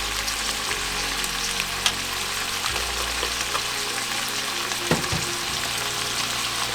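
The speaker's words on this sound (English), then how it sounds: "we'll cook the tomatoes till it's mushy" Tomatoes fry in a pan for tofu makhani, giving a steady, close sizzle with occasional faint stirring scrapes and no talk.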